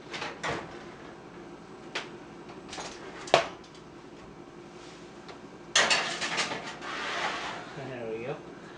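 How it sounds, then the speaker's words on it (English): A chicken parmesan dish is slid into an oven amid kitchen clatter: an oven door thuds open, a dish knocks and scrapes, and the door shuts with a louder bang. A person talks throughout. "We'll go ahead and put this in the oven now for about 20 minutes."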